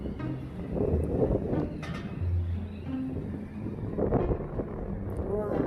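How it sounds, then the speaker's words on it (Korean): Strong wind buffets the microphone outdoors at a seaside camping spot in Geoje, making a steady low rumbling roar with gusts, while a person talks over it. "바람이 너무 불어갖고."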